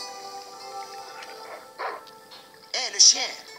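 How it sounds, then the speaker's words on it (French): A dog in the video game Broken Sword 2 gives a few short yips and barks toward the end, sharp and close over a quiet game soundtrack with light background tones. "Hé, le chien!"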